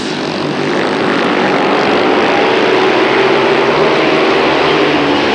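An ice speedway racing motorcycle, a Bayer machine, holds a loud, continuous engine roar throughout, steady and unbroken with no talk over it.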